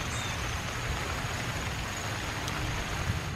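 Steady rain falling on a foggy morning in a park beside a small pond, a continuous close hiss of drops with no voices.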